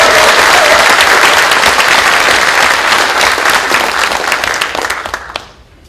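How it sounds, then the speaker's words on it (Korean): A large audience at a legislative rally applauds the Eulji-ro Committee members, loud dense clapping sustained for several seconds before fading out near the end. "36분의 을지로위원회 책임위원들께 다시 한번 뜨거운 박수 부탁드립니다."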